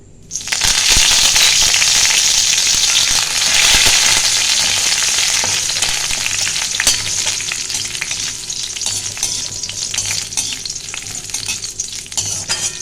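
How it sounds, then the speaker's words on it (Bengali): Curry leaves dropped into hot oil in a pan, a loud, sudden crackling sizzle that bursts in and then settles into steady frying. "এবার ভাজবো আমি কয়েকটা ক্যারি পাতা"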